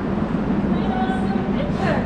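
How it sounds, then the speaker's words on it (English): An airport tram ride at Charlotte, a steady low rumble and whir of the moving car throughout, with faint voices in the background. "So that was a tram ride to D gates."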